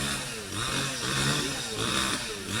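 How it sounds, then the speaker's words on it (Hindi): A chainsaw cuts into a mango tree in an orchard, its engine droning steadily and loudly at close range throughout, with slight shifts in pitch as the blade bites. "आरी, मशीन वाली आरी की आवाज़"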